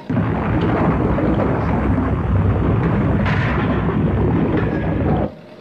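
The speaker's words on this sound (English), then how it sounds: "I confirm multiple explosions, total of 6." Heavy booming rumbles of multiple explosions from an animated undersea battle, loud and continuous, roll together for about five seconds before cutting off abruptly.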